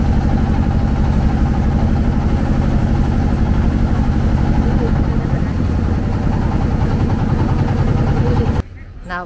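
A motorized boat engine on the Mekong River chugs loudly and steadily up close for several seconds, then cuts off near the end.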